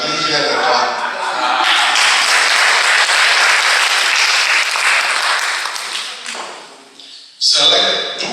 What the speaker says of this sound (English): We are doing here the clap.